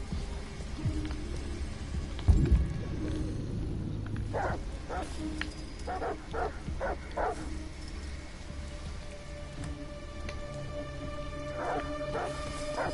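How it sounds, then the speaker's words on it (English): Dogs bark in short bursts within the game Detroit: Become Human, several separate barks over steady rain and storm noise, fairly faint and distant. "What the fuck are they barking at?"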